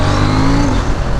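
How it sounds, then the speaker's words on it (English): A KTM Duke 790 motorcycle engine braking under load, a loud, dense mechanical drone with a steady pitched whine that drops off briefly. "See, look, I'm not using any brakes. This is all engine braking."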